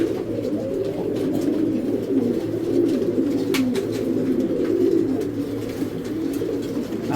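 Racing pigeons coo continuously in a loft, a dense, close murmur of overlapping low calls with no talk.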